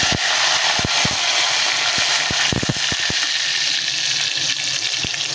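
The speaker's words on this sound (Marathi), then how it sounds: "आता आपण टाकूया कढीपत्ता." Curry leaves hit hot oil with popped mustard seeds for a tempering, making a loud, steady, close sizzle with scattered sharp crackles and pops throughout.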